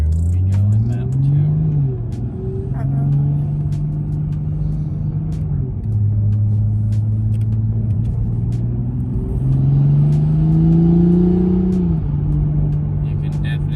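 A tuned car with a JB4 boost controller accelerates hard in sport mode, its engine droning loudly and rising in pitch through several gear changes, with a steady rumble and boost whir throughout.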